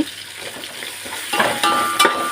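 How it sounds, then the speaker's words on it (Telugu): Carrots, beans and mixed vegetables cook in a pan for vegetable rice, giving a steady soft sizzle with occasional stirring scrapes that grow a little louder toward the end, with no talking. "క్యారెట్ బీనిస్కాయలు అలాగే వెజిటేబుల్స్ అన్నీ అందులో వేసేసిన తర్వాత కొద్దిసేపు బాగా అవి మగ్గనీయాలి"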